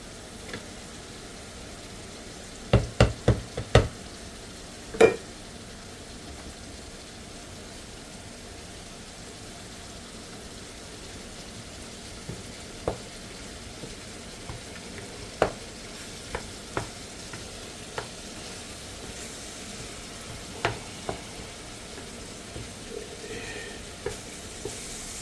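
Vegetables tipped back into a hot pan for baked spaghetti sizzle faintly, with a few sharp clanks of a utensil early on and scattered scrapes of stirring later, quiet and close with no voices.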